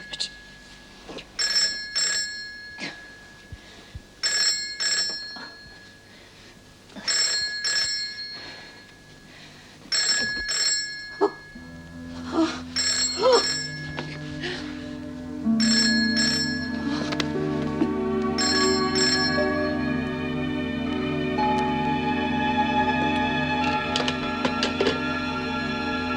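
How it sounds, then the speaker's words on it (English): A telephone bell in a prison office rings in several regular double bursts, loud and close, before the ringing gives way to a steady tonal hum and voices in the background. "Gwen, can't you hear the phone?"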